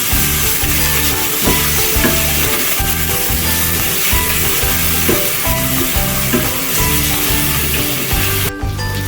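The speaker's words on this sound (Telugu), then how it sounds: "కొద్దిగా అల్లం వెల్లిగడ్డ పేస్ట్, ఉల్లిగడ్డ, పసుపు కొంచెం నూనెలో వేగాలండి." Ginger garlic paste, onion and turmeric frying in oil for a meal maker curry, a loud close sizzle broken by rhythmic scraping strokes of a spoon stirring the pan, with no talking.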